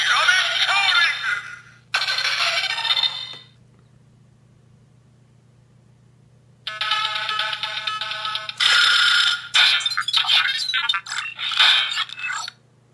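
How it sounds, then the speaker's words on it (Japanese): A Kiramei Silver toy phone from the Mashin Sentai Kirameiger role-play set plays its loud electronic ringtone in two short bursts, then after a pause a longer melodic ringing run sounds close up. "ボタンを押して、キラメコーリングって言った後にちょっと待つと、今みたいに着信音が鳴ります"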